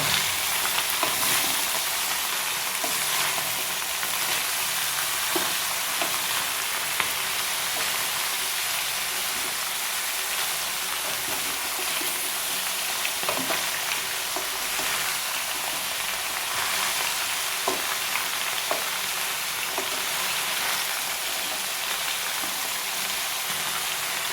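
Ash gourd, cucumber and snake gourd, with drumstick, yam and colocasia, sautéing in a pan for aviyal, giving a steady close sizzle and crackle with occasional stirring clicks, no voices.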